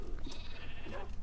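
Sheep bleating in the Minecraft video game, a short nasal bleat heard up close over a steady background of game ambience and music.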